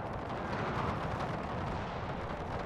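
Artillery fire in a Napoleonic-era battle from Napoleon: Total War, heard as a continuous distant rumbling roar of massed guns, steady and fairly faint with no distinct individual blasts.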